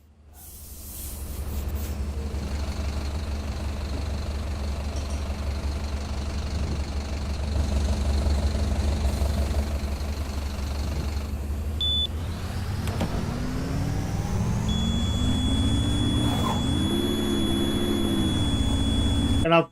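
A Volvo articulated bendy bus engine in the OMSI 2 bus simulator, a steady low drone that builds as the bus pulls away, with whining rises in pitch and a high tone near the end.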